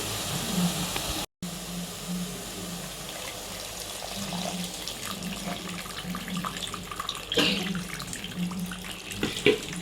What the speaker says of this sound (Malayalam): 2-ാം പാൽ ഒഴിക്കാവേ.